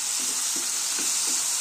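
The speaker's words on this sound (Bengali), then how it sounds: "এই দুটোকে ভালো করে মিশিয়ে নিন।" Dal seasoned with black salt and regular salt is stirred in a pan over steady broadband sizzling, with soft, rhythmic scraping strokes recurring about every half second beneath the hiss.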